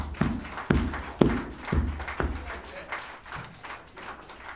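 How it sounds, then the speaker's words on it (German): Audience at a metal gig at Cassiopeia in Berlin clapping for a stand-in band member, a loose patter of hand claps with a few louder claps early on, fading into crowd murmur. "Super geiler Typ, klatscht mal dafür."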